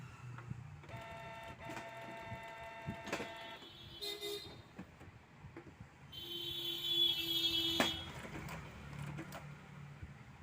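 A Canon G3010 inkjet printer runs quietly after its cover is closed, with faint whirring motor tones, soft clicks and mechanical shuffling, and a brief higher tone midway, in a calm indoor space.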